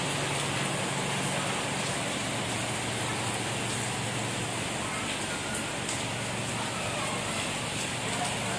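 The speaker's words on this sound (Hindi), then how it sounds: "भाई ज़बरदस्ती बारिश हो रही है" Heavy rain pouring down on a house in Karachi, a constant loud wash of falling water with no pause from start to finish.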